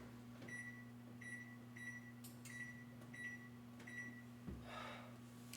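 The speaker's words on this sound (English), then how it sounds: "We're just gonna use the microwave," A running microwave oven hums steadily with a low electrical drone, while a string of short beeps sounds near the start and a faint clatter follows near the end.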